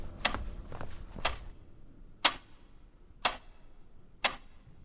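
A clock ticks at night in a quiet hotel room, sharp clicks coming at first in a quicker run and then settling to one crisp tick about each second, close and alone.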